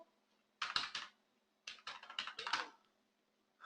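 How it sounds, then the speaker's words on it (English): Computer keyboard typing a terminal command, two short quiet bursts of rapid key clicks separated by a brief pause. "For that, I'll type Puppet module"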